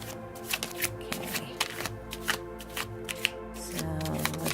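Tarot cards being shuffled by hand, a steady run of crisp riffling and slapping bursts at close range with a low tonal hum underneath and no talking.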